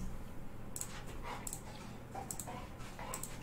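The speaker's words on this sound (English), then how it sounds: "My dog is very upset that he is not getting what he wants exactly when he wants it." A distressed dog whimpers in a few short, high-pitched bursts spaced across a few seconds, fairly faint over a steady low room hum.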